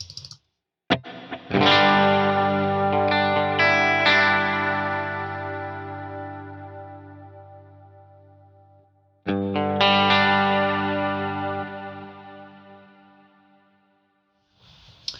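An electric guitar chord rings out through delay and about three seconds of reverb at 30% mix, decaying slowly, then a second strummed chord rings and fades into a lingering wash.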